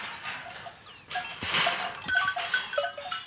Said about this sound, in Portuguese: É um bode ali de fora.